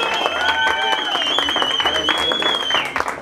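Party guests clap at a mariachi birthday serenade, a brisk patter of hands mixed under bright sustained tones and voices, all close and fairly loud in a lively room.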